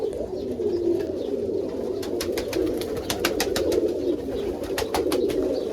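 Pigeons in a loft of English short-faced tumblers, helmets and performance rollers, a steady chorus of soft overlapping coos near at hand with scattered wing flutters and no talk.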